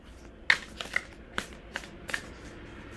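Tarot cards shuffled up close, a series of about five crisp riffling snaps spaced irregularly over a few seconds against a quiet background.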